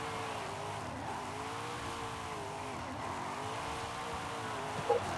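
Video-game car drifting in Forza Horizon 5, a car not built for drifting: a steady engine drone with wavering pitch and intermittent tire squeal, continuous and fairly loud with no talking.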